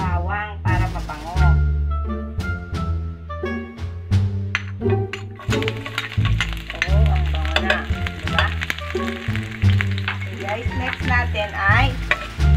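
Garlic sautéing in a hot pan for salmon sinigang gives a steady frying hiss with occasional stirring scrapes, partly buried under loud background music.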